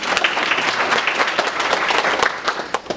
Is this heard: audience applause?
yes